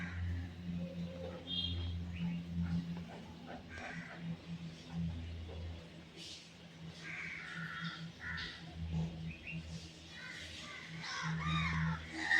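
Crows caw repeatedly at a moderate distance, their harsh calls coming in irregular bursts over a low background hum, with faint traffic audible.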